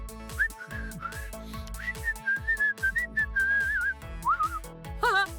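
Someone whistles a bright, wavering melody up close over a plucky backing tune, the notes sliding up and down in short phrases.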